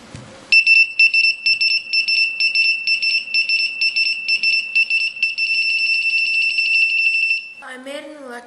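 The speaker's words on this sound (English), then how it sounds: "Once the phone is in use, the radio signals are detected and the buzzer beeps." A mobile phone detector's high-pitched electronic buzzer beeps rapidly and steadily, pulsing in a fast repeating pattern for several seconds, then stops as a brief voice follows.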